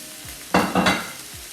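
Cooked rice hits a hot pan for chicken fried rice with a sudden loud burst of sizzling that comes in two quick surges, then settles to a quieter hiss.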